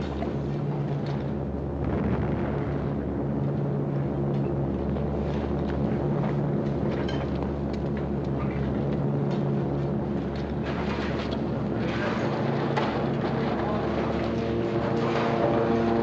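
A Spitfire aircraft drones overhead, a steady low propeller-engine roar that holds for the whole stretch and swells slightly toward the end, with no talking.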